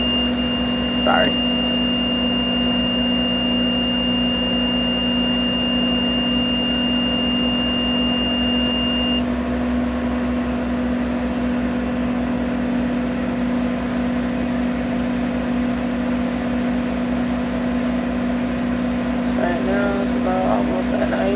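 School bus engine idling steadily to build air brake pressure, a constant low drone with a faint whine, near and even throughout; a brief beep sounds near the start.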